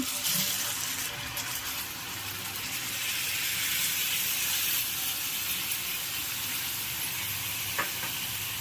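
Fish frying in a pan on a home stove gives a steady, dense sizzle and hiss that holds evenly throughout, close and fairly loud, with faint clinks now and then.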